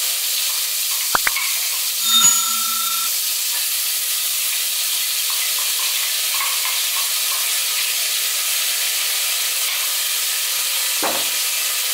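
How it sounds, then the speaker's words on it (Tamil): Ground crab soup paste frying in hot oil in a cooker, a steady bright sizzling hiss running throughout with a couple of brief clanks from a utensil near the start and end. "இப்போ எண்ணெய் காஞ்ச உடனே நம்ம அரைச்சு வச்சிருக்க பேஸ்ட் உள்ள சேர்த்துக்கலாம்."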